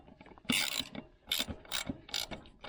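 Ratcheting a bolt tight on a CRZ 125 motorcycle in very poor condition, near the chain tensioner, with short bursts of close mechanical ratchet clicks separated by pauses.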